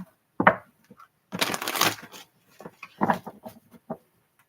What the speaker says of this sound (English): this is our last shuffle for sure